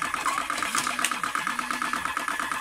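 Tobacco rolling machine running with a busy mechanical whir and rapid rhythmic clatter, close and fairly loud, with brief tonal whines rising and falling over the steady motor drone.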